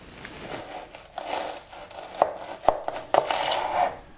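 Knife cutting an onion into quarters on a board, with a few sharp, close chops and soft rustling of the onion between them.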